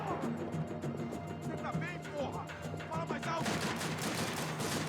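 Pistol shots from Max Payne 3 crackle in quick irregular bursts under a busy game soundscape of music and effects, growing denser and louder toward the end, with a voice briefly heard.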